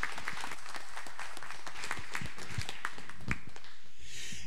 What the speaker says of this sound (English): Let's give them applause one more time